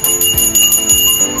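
Bright bell-like notification chime rings in quick repeated strikes over about a second and a half, loud and clear with no talking.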